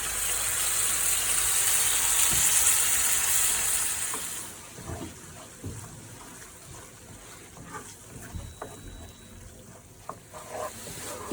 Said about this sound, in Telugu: టమాటోలని బాగా ఫ్రై చేయాలి. టమాటోలు మగ్గేంత వరకు ఫ్రై చేయాలి.